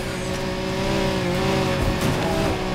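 A racing car in Need for Speed Heat accelerates hard with turbo, its engine droning loud and steady, rising in pitch, with a brief tire squeal near the end.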